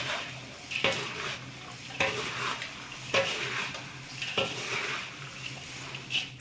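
A spoon stirs vermicelli seasoned with turmeric and salt in a metal cooking pot, scraping and clinking in a regular rhythm about once a second over a low sizzle, close and moderately loud.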